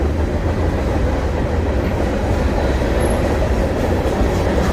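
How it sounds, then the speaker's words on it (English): A train rumbles past close by, a loud steady roar of rolling wheels and rail noise filling the whole clip. "I'm trying to show you the train before it gets by."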